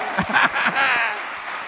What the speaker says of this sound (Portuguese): Você pode dar um aplauso aí, Yeshua?